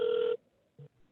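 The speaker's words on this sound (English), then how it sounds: "Hear a phone." A telephone gives one short electronic ring tone, clear and fairly close, followed by a brief faint lower chirp and then quiet.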